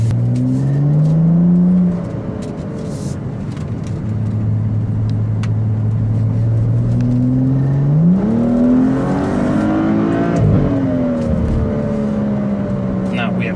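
A 2017 BMW X4 M40i xDrive accelerates hard in Sport mode on a highway, its engine note rising through the gears with shifts audible between pulls, heard from inside the car alongside a speaking voice.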